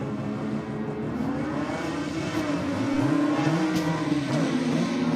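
A Mazda RX3 rotary engine revving hard at a drag race, a loud, steady buzzing drone with rising and falling pitch sweeps, close and continuous throughout.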